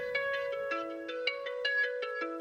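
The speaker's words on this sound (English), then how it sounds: "This is a Japanese koto." Plucked Japanese koto notes ring out in a quick, bright melodic pattern, sounding thin and slightly distant.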